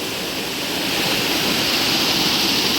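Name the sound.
water flowing near a cave in the jungle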